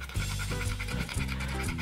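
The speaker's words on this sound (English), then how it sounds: "Panting so much." A dog pants rapidly after returning from a walk, quick rhythmic breaths heard up close and moderately loud, with no talking over it.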